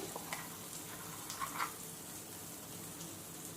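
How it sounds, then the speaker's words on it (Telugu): Garlic paste and half a teaspoon of turmeric frying in oil for palak onion curry, a faint steady sizzle with a few soft stirring clicks, quiet and close, no voices. "ఇదంతా కూడా నూనెలో బాగా వేపుకుందాం"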